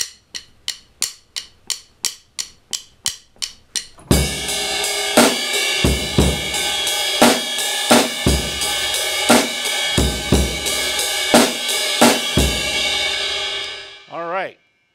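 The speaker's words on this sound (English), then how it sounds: "Now if I do that with the ride cymbal, it'll sound like this." A drummer first taps a few sharp, even strokes, then switches to a ride cymbal groove whose bright wash rings continuously over regular kick and snare hits, close and loud, before the shimmer is choked and fades out at the end.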